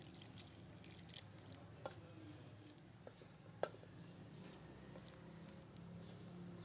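Water is poured into masala paratha dough in a kitchen, heard as faint, scattered drips and light splashes against a quiet background, with a few sharper plinks.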